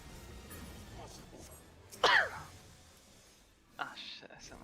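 A single sharp cough bursts out close to the mic, with quiet murmured talk around it and a softer noise shortly after.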